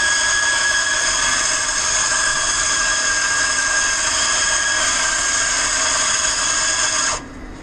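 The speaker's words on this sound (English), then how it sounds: "it's going to grind the coffee one more time" An Azkoyen Zensia coffee machine's built-in grinder grinds coffee beans in a loud, steady, high whirring whine that holds for about seven seconds before abruptly winding down.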